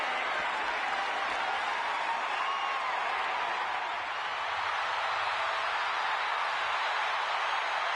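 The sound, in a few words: wrestling crowd cheering and applauding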